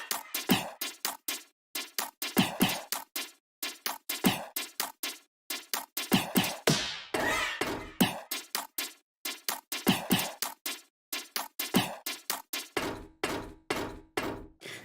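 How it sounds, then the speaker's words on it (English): A punchy electronic drum loop built from Mario Kart 8 course sounds and kart damage hits, repeating percussive thumps and clicks in a tight rhythmic pattern with a brief swelling noise burst near the middle. "So I started adding a bunch of sounds from the actual courses and some of the damage sounds when you get hit"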